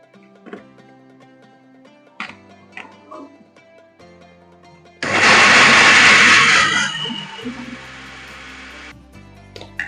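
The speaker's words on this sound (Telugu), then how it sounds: "మిక్సీ పట్ట మళ్ళీ పట్టాలండి రెండోసారి పడుతున్నామండి" A kitchen mixer grinder whirs loudly for about four seconds, grinding jaggery with sesame powder, then winds down; quieter clinks and handling sounds come before and after.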